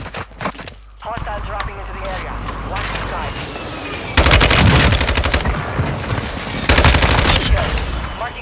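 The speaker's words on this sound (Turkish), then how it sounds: "Air strike attı, kaçın oradan." Heavy gunfire and explosive bursts from an air strike in the Call of Duty Warzone video game, loud and dense with rapid rattling volleys and rumbling blasts, while players talk over the action.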